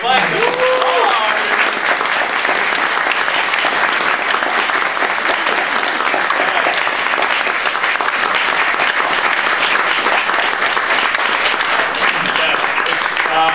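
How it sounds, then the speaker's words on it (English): Sustained, loud audience applause fills a film Q&A hall after a cast member is acknowledged, a steady dense wash of many hands clapping with faint voices in the crowd throughout. "Which, by the way, big round of applause for Jessica Freytag."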